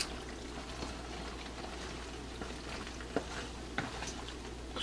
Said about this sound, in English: you stir in the noodles so you get them wet with sauce.